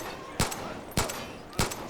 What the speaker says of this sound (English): Oh shit, gunshots!